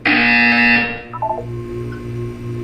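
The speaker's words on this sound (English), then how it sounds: "You will hear a buzzer." A loud electronic buzzer from the video game Portal 2 blares for about a second, then cuts to a softer lingering hum with faint tones.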